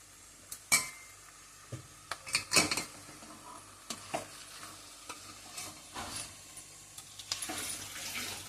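A ladle stirs marinated chicken in a pot of Telangana-style chicken curry, giving irregular scraping clinks and soft sizzling that recur across the clip, near but fairly quiet, with no talking.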